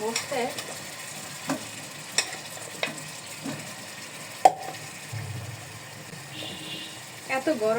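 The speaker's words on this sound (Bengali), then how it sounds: "এবার চাল কুমড়ি দিয়ে কষাই নিই।" Ash gourd stir-frying with spices in a pan gives a steady low sizzle, broken by a few sharp clinks and scrapes of stirring, with some background noise.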